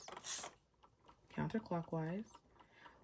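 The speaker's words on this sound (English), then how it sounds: "spin your bead spinner counterclockwise" A bead spinner for making an African waist bead turns counterclockwise with a short burst of mechanical rattling and clicking near the start, then someone talks over quieter whirring.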